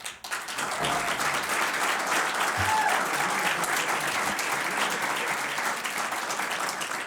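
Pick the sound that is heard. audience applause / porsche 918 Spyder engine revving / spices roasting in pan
audience applause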